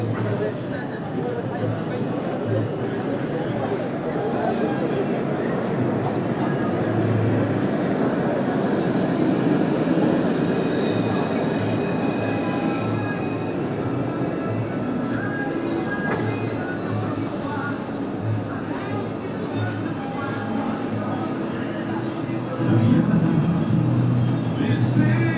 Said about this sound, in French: il y a une rame qui arrive de l'autre côté en direction de la Mousson